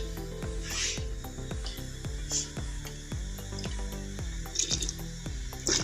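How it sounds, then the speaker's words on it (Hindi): Water is poured into a pressure cooker holding paste for an aloo matar curry, giving a run of repeated gurgling, dripping glugs at a steady rhythm, close and fairly quiet. "थोड़ा सा इसके अंदर पानी डाल दिया।"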